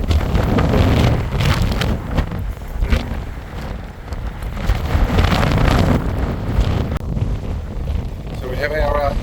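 Strong wind buffets the microphone on the deck of the Interislander ferry in New Zealand in a steady roar with rumbling gusts, and the ferry's engine and sea wash sit underneath.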